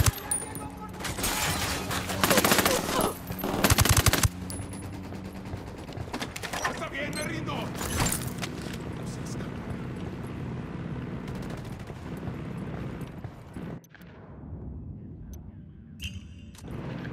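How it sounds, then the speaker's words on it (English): Gunfire in Ghost Recon Wildlands, loud bursts of automatic shots and impacts clustered early, then sporadic fainter shooting, mechanical clicks and a voice speaking amid the firefight before it quiets. "I'm opening fire on these shitheads."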